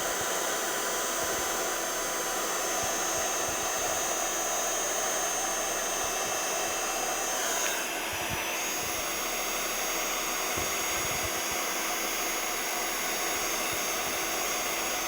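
Heat tool blowing steadily on a cardmaking background image, a continuous loud airy hiss with no talk.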